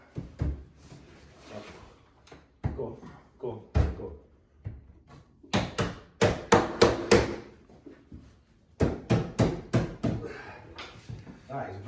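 Scaffold board shelves being hammered together, sharp wooden knocks in irregular bursts, some rapid runs of four or five strikes, close and fairly loud, with brief pauses and occasional speech between.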